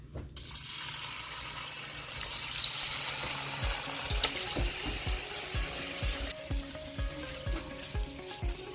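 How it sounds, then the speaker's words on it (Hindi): Marinated meat for barmi boti is tipped into hot oil in a cooking pot, setting off a loud, steady sizzle and crackle with scattered pops and spatters, with no voices. "अब हम ये जो पूरी मैरिनेशन थी हम डाल देंगे तेल के अंदर।"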